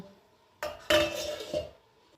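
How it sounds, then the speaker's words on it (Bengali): Dishes, pots and pans gathered in a home kitchen clatter and clink as they are handled for washing, a short burst of metallic knocks and scrapes after a quiet start, fairly close and with no talking. "এই যে বাসন জড়ো হয়ে গেছে অল্প স্বল্প, সেগুলো ধুয়ে নিই"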